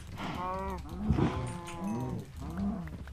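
Cows on a cow farm in the Minecraft video game moo repeatedly in overlapping, drawn-out lowing calls, fairly close and clear with no talk over them.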